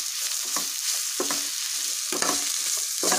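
Bottle gourd pieces fry in a pan, giving a constant hiss and sizzle. A spoon stirs them with several scraping strokes at irregular intervals, close and clear.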